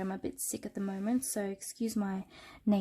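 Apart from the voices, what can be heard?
None of the usual background noises is heard.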